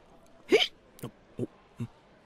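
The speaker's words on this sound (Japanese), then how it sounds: "しゃっくり止まらない。" Hiccups that won't stop, four separate sharp hiccups spaced roughly half a second apart, the first loudest, close up in a quiet room.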